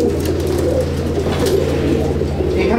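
Pigeons in a breeding loft coo continuously, several birds overlapping in low, throaty murmurs, close and fairly loud.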